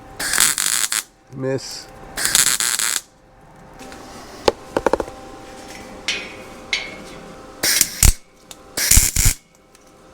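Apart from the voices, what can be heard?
ratchet strap being tightened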